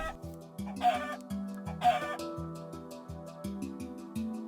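Blocky Minecraft chickens cluck in short bursts during play, with two louder squawks standing out over a steady layer of game background music.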